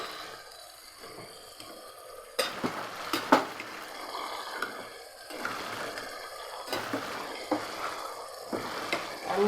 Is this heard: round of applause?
no